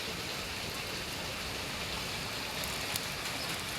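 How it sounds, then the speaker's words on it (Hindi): Steady rain pours near a house beside a water drain, a dense, constant hiss of falling water close by with no voices. "पूरी रात से बारिश चालू है"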